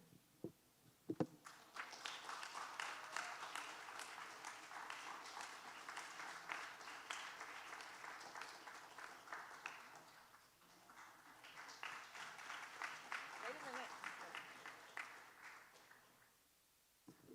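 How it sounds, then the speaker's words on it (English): Congregation at a Sunday church service gives sustained applause lasting over ten seconds, soft and somewhat distant, swelling and fading in two waves before trailing off. "Let's give him one more round of applause."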